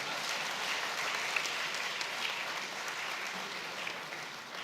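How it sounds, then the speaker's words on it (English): An audience applauds at a banking and finance event, a dense, steady burst of clapping that holds evenly for several seconds. "give him a round of applause"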